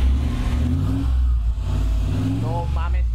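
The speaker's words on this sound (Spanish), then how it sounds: "parece ser que los escapes están ahí modificados. Miren eso cómo suena." Modified exhaust on a pickup truck rumbles steadily up close, its engine revving and droning throughout while people talk over it.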